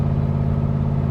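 A 502 GM Performance engine in a 1966 Chevrolet Corvette runs at a steady, deep idle, close and loud, with an even low rumble and no revving.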